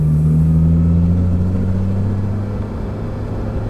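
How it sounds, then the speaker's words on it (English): A Honda TSX with a hybrid racing shifter cruises on the freeway, a loud steady low engine drone and road rumble heard from inside the cabin, with no talking. "me driving on the freeway and seeing if it's too loud."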